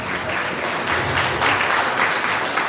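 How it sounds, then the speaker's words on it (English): Applause from the audience at a road and public safety forum, a dense, fairly loud burst of clapping with no voices over it. "Give yourselves a round of applause"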